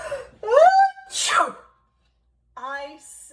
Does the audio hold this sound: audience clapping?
no